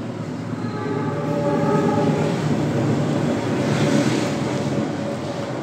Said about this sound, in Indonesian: Sebentar ada kereta api.